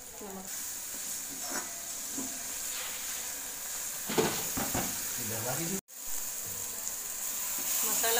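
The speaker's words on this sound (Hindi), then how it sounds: "ये प्याज मसाला भुन चुका है" Onion masala sizzles steadily while frying in a pan for a paneer masala, a constant hiss with occasional soft stirring scrapes, heard close up.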